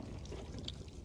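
Water poured while washing the arm and elbow of a deceased body during a ritual washing: a soft, faint, brief trickle and splash, heard close with no talk.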